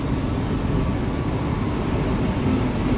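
Steady low rumble of a train pulling into a railway station in the Netherlands, a continuous even roar with a faint squeal near the end, no voices.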